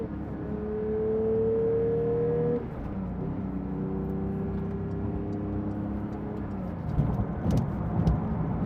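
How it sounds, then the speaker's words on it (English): Porsche GT3 in second gear accelerating hard onto a highway, engine note climbing in a steady loud rising whine, then dropping briefly at a shift before building again with road and wind roar. "So now I'm going into second, so I'm going to give it gas, going onto the highway."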